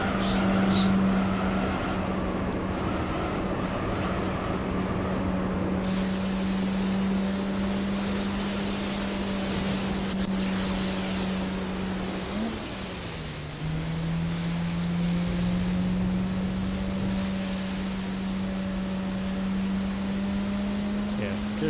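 Car engine held in third gear in Gran Turismo 3: a steady, loud engine drone with a brief dip and recovery midway, accompanied by broad wind-like rushing noise, with no talk.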